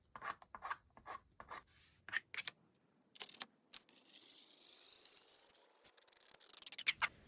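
A Mitsubishi Dermatograph grease pencil scratches and rubs across a coarsely grained aluminum lithography plate, with short quiet strokes at first and then a longer continuous drag, faint and close.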